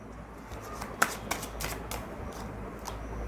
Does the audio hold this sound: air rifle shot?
no